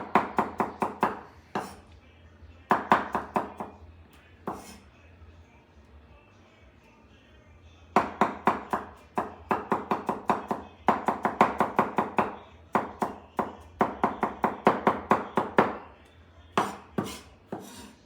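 A knife chops garlic finely on a cutting board for a black pepper beef stir fry, with loud, rapid bursts of crisp taps in runs separated by short pauses.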